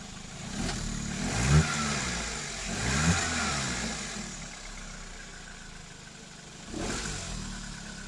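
Car engine cranking into life after its fuel pump hoses were fixed, then revving in a couple of strong bursts before settling into a steady idle, with one more rev near the end, close up and loud.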